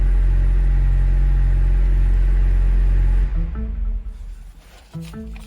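Deep, loud rumble of a seventh-generation Ford Mustang's V8 exhaust at close range, steady at first, then dropping and wavering as the engine settles.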